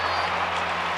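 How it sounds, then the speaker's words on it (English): Baseball stadium crowd at a Minnesota Twins game with a runner on first, producing a dense, steady roar of cheering and applause that fills the whole moment without a break. "Oh, yeah, listen to the crowd."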